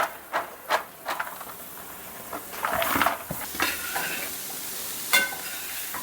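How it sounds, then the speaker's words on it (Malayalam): Chopped carrot is tipped into a red chili mixture for carrot pickle and stirred, giving soft scraping and a light sizzle with a few sharper clinks of the spoon against the pan. "ഇനി അതിനകത്തേക്ക് നമുക്ക് കാരറ്റ് അരിഞ്ഞതിട്ട് കൊടുക്കാവേ"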